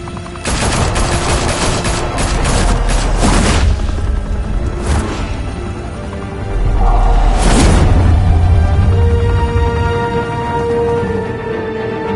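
Loud, sustained bursts of gunfire from Batman: The Telltale Series, with rapid automatic volleys and heavy booms rolling through most of the stretch, swelling again near the middle and continuing to the end, with no talking.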